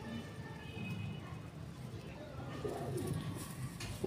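Golden pigeon for sale in Lahore cooing softly in a series of low, repeated coos, faint and somewhat distant, with light background noise.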